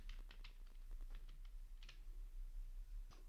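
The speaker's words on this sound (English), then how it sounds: "I will type console.log" Quiet clicking of keys on a computer keyboard while code is entered, a steady run of soft taps with brief pauses, no voice.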